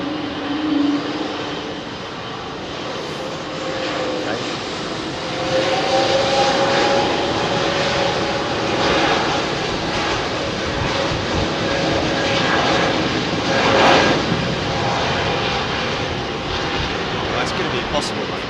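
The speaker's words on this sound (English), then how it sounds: "Royal Australian Air Force C-27 Spartan buzzing over the house today at about 500 feet above, headed to Amberley Air Base." Royal Australian Air Force C-27 Spartan propeller aircraft flying low overhead at about 500 feet near a house, a loud sustained engine roar that swells and fades over the whole stretch, with a voice talking beneath it.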